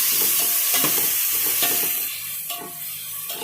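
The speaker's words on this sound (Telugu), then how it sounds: "ఇప్పుడు టమాటాలు వేసుకోవాలి నేను రెండు రెండు టమాటాలు తీసుకున్నాను దీన్ని బాగా ఫ్రై చేయాలి" Chopped tomatoes fry in a pan for a restaurant-style biryani, giving a steady, loud sizzle and hiss broken by occasional scrapes and taps of a stirring spoon.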